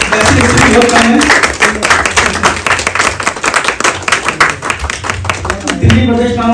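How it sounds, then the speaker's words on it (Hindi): Audience applause at a political gathering honouring Atal Bihari Vajpayee, a dense stretch of clapping from many hands that swells and fades over several seconds, heard close and fairly loud. "तालियां बजाते रहिए"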